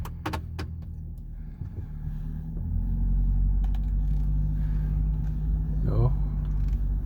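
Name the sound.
Ford Super Duty truck driving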